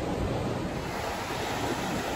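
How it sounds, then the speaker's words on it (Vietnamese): Ocean waves lapping and washing onto Mỹ Khê beach in Quảng Ngãi at sunset, a steady broadband surf roar close by with some wind, no voices. "Đây để mình quay ra đây cho các bạn nghe cái sóng biển nó vỗ nha."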